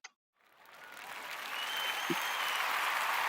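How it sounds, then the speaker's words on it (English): An audience at a talk on emotional regulation breaks into applause that builds from nothing to a steady, moderately loud wash of many hands clapping, with one brief voice-like blip partway through. "Give me a hand clap."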